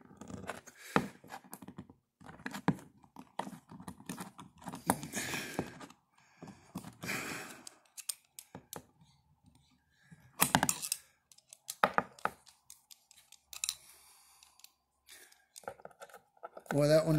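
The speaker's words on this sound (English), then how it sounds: "my scissors, you got to take them apart" An old pair of scissors is pried apart for sharpening: sparse metallic clicks, snaps and scrapes come in short bursts between quiet pauses, with someone talking softly.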